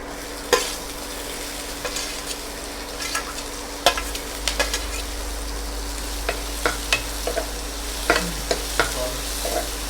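Onions sizzle and fry in a pan for a spicy Kerala-style tuna curry, a steady close crackle with scattered sharp stirring clicks and scrapes, no talking.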